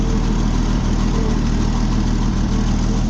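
An old tractor with a 6-volt starting system idles close by, a steady low rumble with an even, unbroken throb that holds for the whole stretch.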